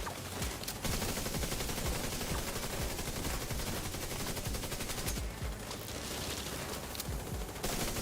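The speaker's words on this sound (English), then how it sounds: "Now we're going for the headshots." Rapid automatic gunfire from the video game The Division 2 rattles continuously and densely for several seconds, with sustained bursts at steady volume and no speech.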